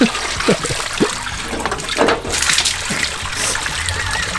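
Water sloshes and splashes while rust is washed off a GM 2500/3500HD truck bed panel, with a few hollow knocks and bursts of spray over a constant wet hiss, close and moderately loud.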